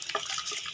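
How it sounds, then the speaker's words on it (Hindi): Dry rice tips into a pot of already boiling water while making chicken biryani, a short splashy pour under a second long that ends abruptly. "पानी चावलों के लिए मैंने उबालने के लिए रखा था, ये उबल चुका है। इसमें मैं डालूँगी चावल।"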